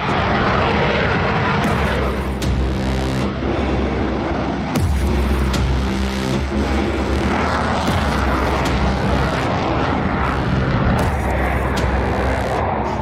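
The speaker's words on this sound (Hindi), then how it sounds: "ये अमेरिका का F-35 है।" An F-35 fighter jet flies past with a loud, continuous roar that stays dense and unbroken from start to finish, with no voices over it.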